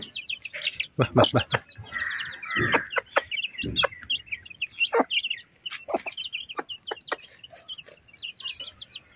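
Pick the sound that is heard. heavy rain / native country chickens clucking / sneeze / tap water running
native country chickens clucking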